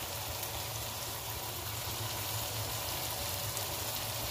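Chicken and vegetables frying together in a pan, a steady close sizzle with a soft crackling hiss that holds evenly throughout, no voices.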